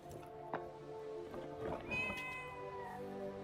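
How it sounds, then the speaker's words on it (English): A cat in the video game Forspoken, heard inside a refuge, lets out a soft drawn-out meow over a faint tonal background hum, fairly quiet and close. "Here's our new kitty cat."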